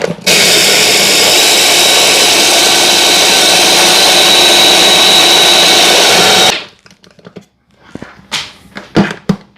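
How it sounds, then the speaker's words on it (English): Egusi melon seeds are blended dry in a food processor, a loud continuous motor roar with rattling seeds for about six seconds, then it cuts off and a few knocks and handling clatters follow. "I'm going to add the egusi seed or the melon seed into the food processor. And I'm going to blend this dry."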